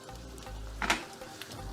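Coconut pieces frying in hot ghee for adapradhaman make a soft, continuous sizzle with a brief brighter crackling burst near the middle, close and alone without talk.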